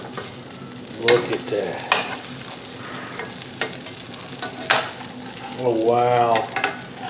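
Premium Angus New York strip steaks sear in a skillet with butter, giving a steady close sizzle broken by sharp clanks and scrapes as they are flipped. Someone speaks briefly over the frying.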